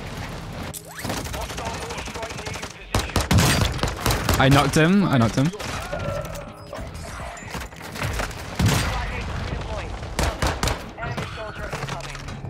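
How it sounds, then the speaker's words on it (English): Gunfire and explosions from a battle royale video game on Ashika Island crash in dense, overlapping bursts and booms, loud and chaotic, while players talk excitedly over the fighting. "Too many explosions."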